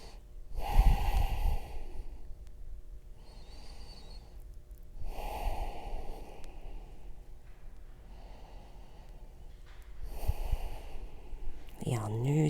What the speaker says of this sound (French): On respire 3 fois.